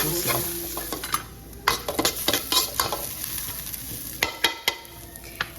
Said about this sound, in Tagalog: dito ko na lang din igigisa yung ating bawang, sibuyas